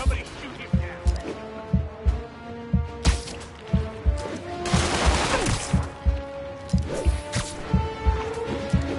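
Gunfire in the Spider-Man PS4 video game: a run of sharp, evenly spaced shots with a dense burst near the middle, set against a game music bed with voices.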